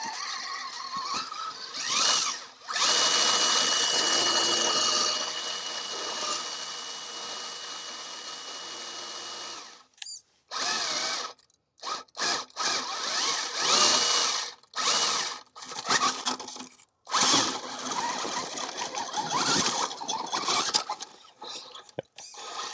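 Axial SCX6 RC crawler on quarry rock, its electric motor whining in loud bursts that rise and cut out repeatedly, with gaps of near silence between runs and some rattling over rough ground.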